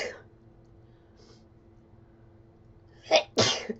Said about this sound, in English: I haven't been sneezing. And I just did it twice in your reading.